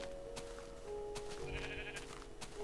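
Minecraft sheep bleat in the video game, a couple of short wavering bleats standing out over a steady game background drone with no talk.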